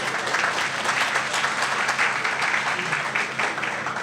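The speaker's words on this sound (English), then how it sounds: "Now, that deserves a round of applause." Applause from an audience at an outdoor groundbreaking ceremony for an affordable housing project in Silver Spring, a dense, steady round of clapping that stays loud and even throughout, with no talking.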